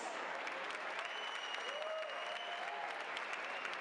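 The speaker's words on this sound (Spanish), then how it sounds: "Y aplaudimos." An audience at a trail race award ceremony applauds the top women finishers, dense, even clapping from a crowd that holds steady for the whole stretch, with a faint voice over a loudspeaker in the background.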